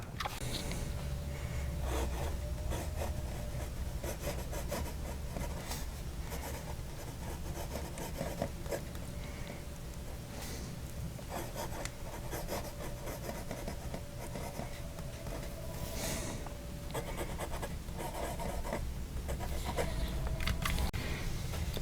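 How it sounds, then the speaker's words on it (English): Vintage 1920s Sheaffer Radite fountain pen with a stiff 14 karat manifold nib scratching across paper, a soft continuous rasp of writing strokes heard close up and steady, with no talking. "Let's see how the nib puts ink down."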